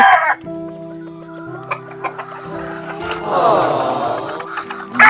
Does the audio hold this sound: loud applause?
no